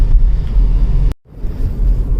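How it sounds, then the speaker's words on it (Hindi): A Skoda Kushaq's engine runs with a steady low rumble close by, cutting out briefly midway before resuming at a similar level. "क्या सही में इसका इंजन साउंड बढ़ गया है"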